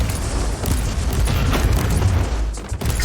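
A loud, rumbling blast in Warhammer 40,000: Inquisitor - Martyr rolls on heavy and sustained for about three seconds before fading slightly at the end.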